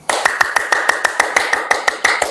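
Firm, rapid hand clapping in a steady even rhythm, about a dozen sharp claps over two seconds, loud and close with no talking over it.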